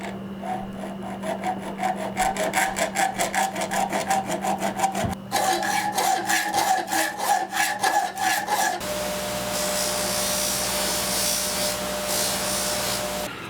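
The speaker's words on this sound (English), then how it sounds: "I'm going to have to get the hacksaw out and start trimming this thing up to make it look right." A hacksaw trims a holster part with steady back-and-forth rasping strokes, close and loud, the rhythm shifting partway through into a continuous grinding rub.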